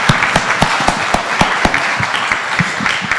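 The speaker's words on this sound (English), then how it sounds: "Everybody give them a round of applause." A meeting audience applauds its speakers, with a few distinct hands clapping in sharp, fairly regular slaps over a softer bed of general clapping, close by and without talk.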